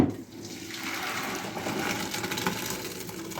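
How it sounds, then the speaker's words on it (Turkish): Cooked chickpeas and their water pour into a strainer, a close steady splashing rush of liquid lasting a few seconds with no talking. "Ee, şimdi süzeceğim nohutumu."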